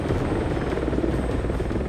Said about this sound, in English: the helicopters you see behind here are totally overwhelmed